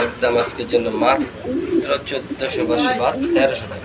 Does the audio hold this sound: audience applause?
no